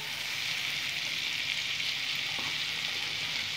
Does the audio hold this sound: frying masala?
yes